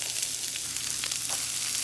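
Sliced vegetables sizzle and crackle steadily in hot olive oil in a pan, a continuous close frying hiss with no talking.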